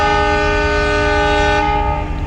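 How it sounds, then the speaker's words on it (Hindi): A loud train horn sounds one long, sustained blast with a rich, steady tone and a faint rumble of the train beneath it. "एक लंबा हॉर्न और उसके बाद 2 छोटे हॉर्न"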